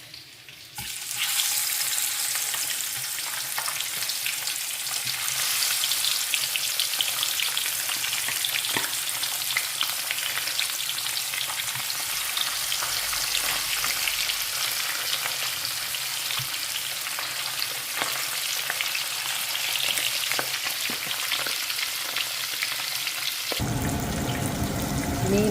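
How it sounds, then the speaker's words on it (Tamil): Battered fish fries in hot oil over a low flame, a dense continuous sizzle and crackle held steady for over twenty seconds, close and fairly loud, cutting off sharply near the end. "மீன் பொரிக்க போகிறேன்."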